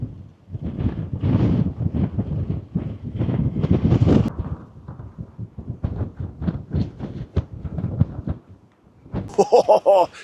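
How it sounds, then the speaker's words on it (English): Gusty wind at the seafront at Uphill, Weston-super-Mare, buffets the microphone in loud, rumbling surges that rise and fall for about ten seconds, with a brief different sound near the end. "Could feel the wind here"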